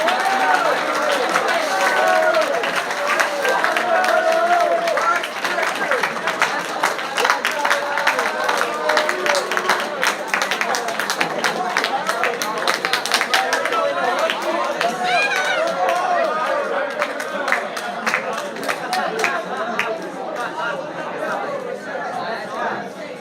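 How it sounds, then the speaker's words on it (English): Audience at a high school underclassman awards ceremony applauds steadily in a sustained burst of crowd clapping, with murmured chatter mixed in, gradually tapering toward the end. "And they should receive a big round of applause."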